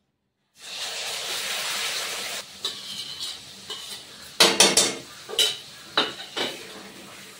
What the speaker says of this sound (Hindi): तो मसाला पहले भून लेते हैं।